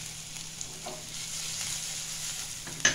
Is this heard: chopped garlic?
yes